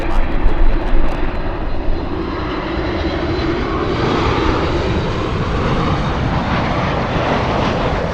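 An airliner takes off from runway 24 left at Los Angeles International Airport, its engines a loud, broad, steady roar heard from nearby for the whole stretch, with no talk.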